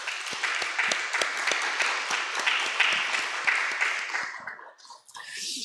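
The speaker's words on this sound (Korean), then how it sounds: "하늘 부모님과 또 천지인 참 부모님께 다시 한번 감사와 또 영광의 박수 올려주시면 감사하겠습니다" A church congregation applauds in a dense, steady burst of clapping that fills the room, tapering off near the end into quieter scattered claps.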